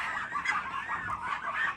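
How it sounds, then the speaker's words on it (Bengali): A flock of Chinese geese call nearby with a run of short, overlapping honks and clucking notes, moderately loud and alone. "এই তো সব চীনা হাঁসগুলো এখন যাচ্ছে"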